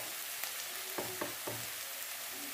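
Onion, ginger and spices fry in hot oil with a steady low sizzle, broken by a few short stirring scrapes.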